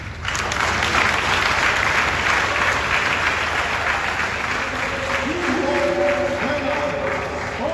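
A large audience at a sports awards ceremony applauds the president in a steady, dense wash of clapping that holds loud for the whole stretch, with a few raised voices rising through it near the end.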